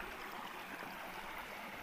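A steady wash of forest stream water flowing all year round, running continuously at an even level, with no voices.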